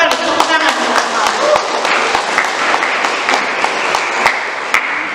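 An audience at an opening ceremony for a youth event applauds in a brisk burst of clapping, fairly close and dense, with sharp individual claps standing out through the crowd.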